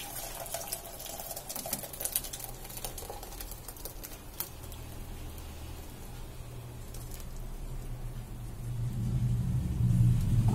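Paneer whey being poured through a filter into a vessel, a steady continuous trickling and splashing that swells louder and heavier toward the end, with a low rumble underneath.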